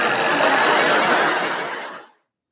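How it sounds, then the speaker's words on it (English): A bell rings in one continuous bright, loud burst for about two seconds before stopping abruptly, like an old telephone or alarm clock. "It sounds like a bell ringing."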